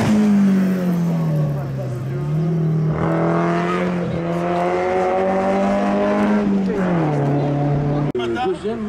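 A race car at a hillclimb course in Saint-Gueno holds a loud, steady engine drone as it passes, pitch dipping and rising with gear changes, while a commentator talks throughout.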